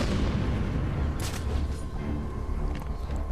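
A grenade explodes in the Batman Arkham Origins video game, a loud, dense boom with crackling gunfire-like bursts over continuous rumbling game noise, with no talking.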